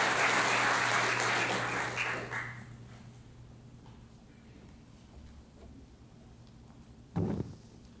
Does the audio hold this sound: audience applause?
yes